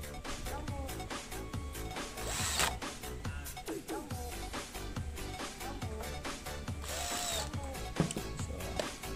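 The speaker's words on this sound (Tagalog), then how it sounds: "ang gamit namin ay Makita portable drill" A Makita portable cordless drill drives screws while assembling a window blind valance end cap, giving repeated short whirring and ratcheting bursts amid a busy workshop mix with some voices.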